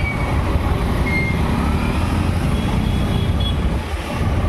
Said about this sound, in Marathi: इथे ट्रॅफिक लागलेलं आहे